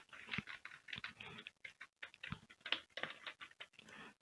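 Computer keyboard typed on at a Windows machine while entering a short command, a run of light, quick clicking keystrokes in uneven bursts, close and moderately quiet, with no talking.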